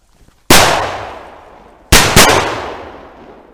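Dragon Boom firecrackers explode outdoors in three sharp, loud bangs: one, then a quick close pair a second and a half later, each followed by a long echoing decay.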